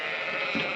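A single short bleat from young ewe lambs in a farm pen, close by and fairly loud.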